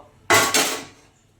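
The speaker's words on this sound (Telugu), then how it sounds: "స్టవ్ వెలిగించుకొని మనం ఈ గిన్నెని పెట్టేసుకుందాం." A pot is set down onto a lit gas stove in a home kitchen before cooking bitter gourd curry, giving one sharp metallic clunk followed by a brief scraping rattle that fades, with no talking.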